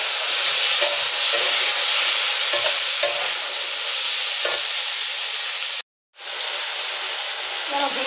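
Ridge gourd and potato frying in a pan, a constant close sizzle with soft stirring scrapes, briefly cut off by a moment of silence before resuming.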